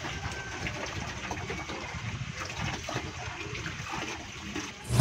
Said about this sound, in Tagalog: Bubuhos lang natin dyan sa timba na malinis